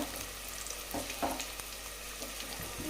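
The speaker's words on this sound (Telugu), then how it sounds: "ఆనియన్స్ బాగా వేయించుకోవాలి" Onions frying in oil in a pan, a steady close sizzle with occasional stirring scrapes and no talking.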